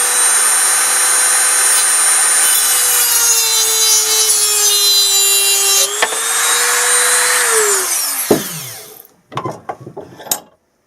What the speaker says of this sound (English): the head of the bolt is hitting the chuck of the Dremel, and it makes it difficult, so I'm going to cut it long